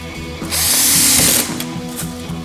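Power driver sinking screws during the full build of a Gungnir multibit, a steady whirring drive swelling for about a second and then easing off, close and fairly loud with no talk.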